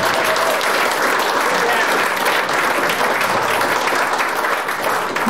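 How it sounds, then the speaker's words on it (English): An audience at the Bristol 50 evening presentation applauds Bill Seabold, with loud, continuous crowd clapping that holds steady from start to finish. "Bill Seabold, stand up and just take a round of applause"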